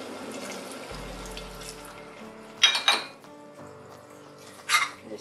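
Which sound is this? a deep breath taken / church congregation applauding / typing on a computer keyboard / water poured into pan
water poured into pan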